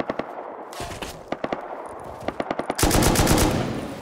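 An M2 heavy machine gun fires in the video game Rust, first in spaced single shots and short bursts, then a sustained loud rapid stream of gunfire, close and alone.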